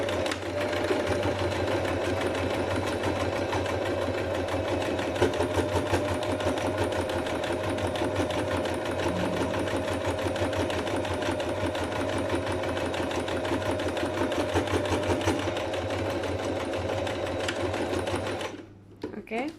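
Sewing machine topstitching near a buttonhole and loop, running continuously as a close, loud, even mechanical drone for nearly the whole stretch before cutting off at the end.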